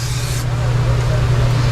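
An aerosol can sprays in a steady hiss, with a low engine-like hum running underneath.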